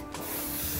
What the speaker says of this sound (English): I just finish with a little bit of spray